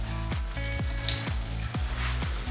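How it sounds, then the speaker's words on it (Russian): Butter and oil sizzle steadily in a hot frying pan while homemade syrniki are cooked, a continuous crackling hiss punctuated by soft rhythmic scraping or stirring strokes, close and alone. "А вот и у нас, смотрите, уже как сковородка скворчит и масло в ней."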